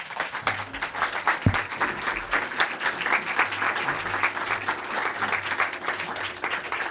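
Applause from a lecture audience after a talk on Pier Paolo Pasolini, a dense, sustained wash of many hands clapping at moderate distance, filling the hall without letting up.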